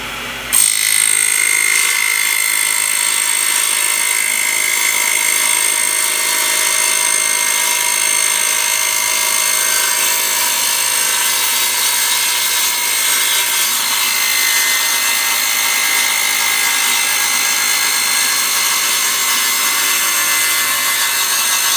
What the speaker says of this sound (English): with a table saw, all you got to do on this acrylic is run it really slow